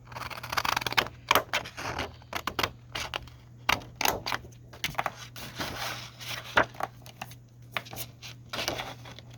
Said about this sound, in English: I'm going to cut this piece to match here.